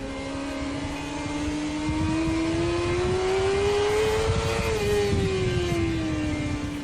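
A motorcycle engine drones steadily while riding, its pitch rising gradually then easing back down, loud and continuous with no talking.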